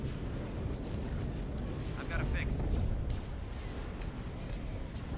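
Missile explosions in a space battle game, heard as a steady, loud low rumble with a heavier detonation swelling briefly near the middle before the roar settles back.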